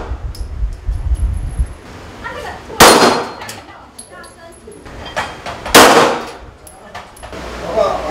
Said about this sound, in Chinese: 来个泰国一定要开枪啊